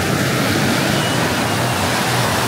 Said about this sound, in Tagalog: Tsaka yung tahimik na yung alon